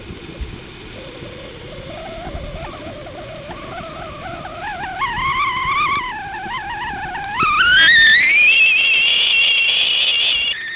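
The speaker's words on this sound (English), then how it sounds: "You also have the green whistle." A Kelly Kettle with a green whistle sounds as water comes to the boil for tea, a wavering whistle rising in pitch and growing louder until it settles into a steady shrill tone.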